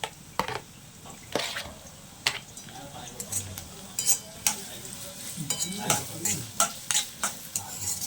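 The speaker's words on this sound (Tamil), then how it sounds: "வெட்டி வச்ச வெங்காயம் 2 வெங்காயத்தை நீங்கள் போட்டுக்கோங்க எண்ணெயில்" Chopped onions frying in hot oil for egg and chicken curry, a soft sizzle beneath sharp metallic clinks and scrapes of a spoon against the pan, irregular and close, getting busier toward the end.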